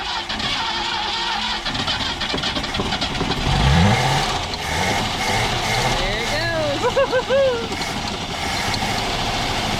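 A 1967 Ford Galaxie 500, long abandoned, cranks and catches, its engine rumbling and revving unevenly with a loud burst near the middle, while people talk nearby and a squeaky whine rises late.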